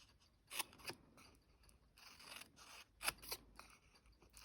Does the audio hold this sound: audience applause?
no